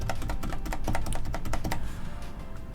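Kailh Speed Bronze keyboard switches on a hitbox controller are pressed in quick, uneven succession, giving about a dozen close, crisp clicks and clacks that fade toward the end.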